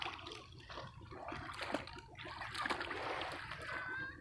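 Water splashing and churning as a toy boat moves through it, steady and close, with a brighter burst of splashing midway.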